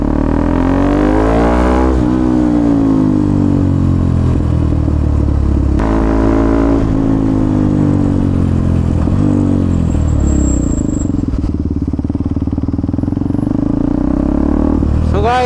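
A KTM Duke 390 gen 3 motorcycle rides through a city near Old Mussoorie Road, its loud engine rising and falling as it revs and shifts, with wind rush throughout.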